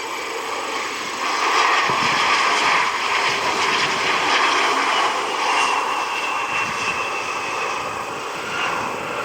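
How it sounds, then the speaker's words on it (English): A Delta Connection CRJ regional jet arriving inbound from JFK, its steady jet engine roar loud and sustained, swelling slightly and holding with a broad whine over background noise. "Delta Connection Flight 4975 CRJ inbound from JFK"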